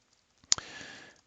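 A single sharp mouse click lands as vehicles are selected in Paramics Discovery traffic simulation software, followed by a soft hiss of background noise, near and alone with no talking.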